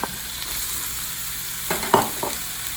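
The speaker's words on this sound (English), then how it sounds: "I have about a tablespoon of olive oil heating in the pan, and I am going to add 1 medium zucchini that I sliced up and quartered" Sliced zucchini and yellow squash sizzling in olive oil in a pan, a steady crackling fry with a few louder stirring scrapes near the end.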